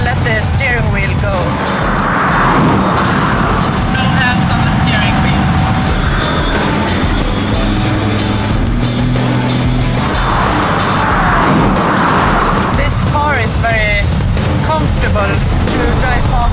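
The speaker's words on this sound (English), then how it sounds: "We are in the curbs now and 200 kilometers an hour" A Volvo XC60 cruising at about 200 km/h, its engine and road roar loud and steady throughout, with someone talking over it inside the car.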